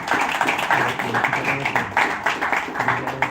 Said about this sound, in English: big round of applause for Harsh Mehta